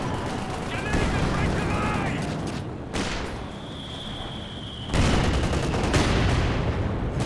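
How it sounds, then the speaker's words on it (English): Heavy mortar barrage pounding ISG guns in a Company of Heroes 2 match, with thudding impacts and blasts mixed into steady gunfire, surging louder near the end while a commentator talks throughout. "heavy mortar barrage action on these ISGs"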